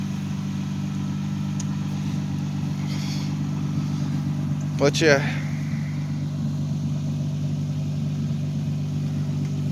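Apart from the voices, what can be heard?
Toyota Solara engine idling after exhaust update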